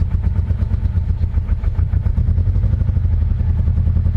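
A Subaru BRZ engine being revved while someone works on its fuel system, a loud, steady, rough mechanical drone with clattering texture held throughout at close range, no voices.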